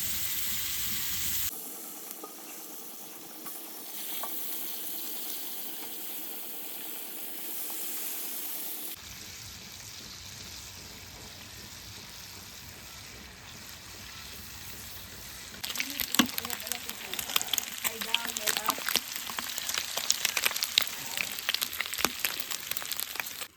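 Food sizzles and fries in olive oil over a campsite stove, a steady crackling hiss that grows louder and busier toward the end, with little else in the foreground.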